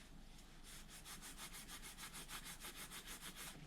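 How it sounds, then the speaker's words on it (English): Scotch-Brite pad scrubbing rust off small parts from a 1971 Kawasaki F7 motorcycle, a steady rhythmic back-and-forth rasp of about 18 strokes, close and alone, with no talking. "so it is taking it off with the Scotch-Brite"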